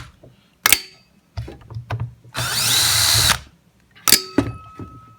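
Power driver backing T10 Torx screws out of a Ridgid orbital sander, several short sharp whirring bursts and one longer run, separated by clicks and handling noises, close up.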